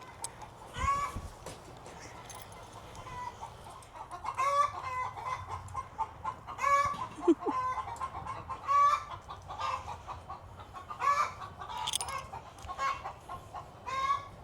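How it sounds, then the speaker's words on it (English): Chickens on a farm cluck repeatedly in a steady, busy chorus with a few louder squawks, fairly close by. "I hear the chickens in the back."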